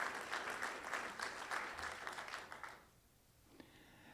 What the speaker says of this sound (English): I'd like a round of applause for the dedication of past and present board members and CSA men and women